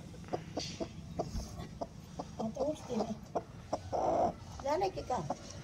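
A multicoloured broody hen sitting on eggs clucks in short, repeated bursts close by, with chick-like peeps and a person talking softly in the background.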